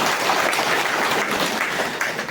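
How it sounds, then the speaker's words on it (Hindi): A crowd at an outdoor political rally bursts into loud, dense applause, a continuous wash of clapping filling the whole moment. "जोरदार तालियां"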